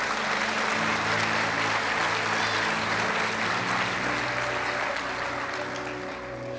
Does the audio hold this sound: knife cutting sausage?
no